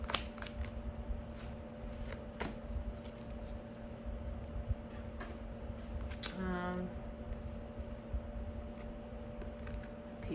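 Playing cards being shuffled nearby, a soft repeated riffling and sliding against a steady background hum, with people talking over it.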